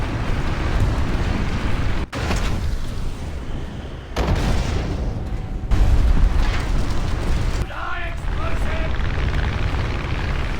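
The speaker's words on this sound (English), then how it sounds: "I found a KV heavy tank and fired a round at its turret ring" Tank cannon rounds going off in the War Thunder Mobile game, a few heavy booming blasts in loud rumbling battle noise, with a voice talking over part of it.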